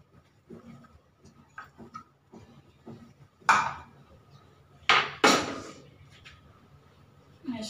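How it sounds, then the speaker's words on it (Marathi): A knife finely chops onions on a board in a home kitchen. Sparse, uneven knocks and a few sharper, louder chops land close by, with faint background sounds between them. "2-3 कांदे बारीक कापून घ्यायचे"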